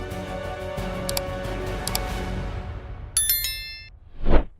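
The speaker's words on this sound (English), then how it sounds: "Let us begin this story with a warning bell from Fox News, that familiar sound" A Fox News warning alert sounds as a series of bright, ringing bell-like dings over a low sustained tone, ending in a short rising whoosh.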